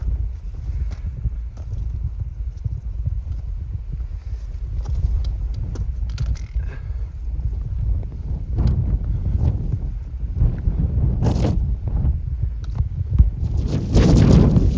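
Strong mountain wind on the Appalachian Trail in New England, near Mount Washington, roars and buffets steadily against the microphone, with louder gusts toward the end.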